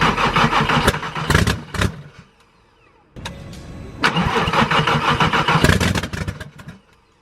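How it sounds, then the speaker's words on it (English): A 2001 Volkswagen Jetta VR6 with a newly replaced throttle body and MAF sensor cranks and fires loudly up close, catches briefly, cuts out to near silence, then cranks and runs again before dying down. "So now I'm going to try and give it a start and see what happens."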